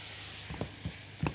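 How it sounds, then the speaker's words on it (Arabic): Onion sautéing in a pan gives a soft, steady sizzle, broken by a few short bursts of clatter and hiss as crushed soy is added and stirred in. "البصله اهي ابتدت تتشوح هحط عليها الصويا المجروشه"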